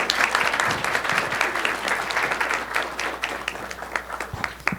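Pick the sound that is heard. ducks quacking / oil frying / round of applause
round of applause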